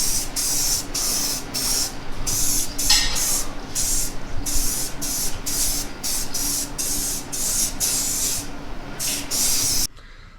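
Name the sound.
spray painting differential cover with primer and paint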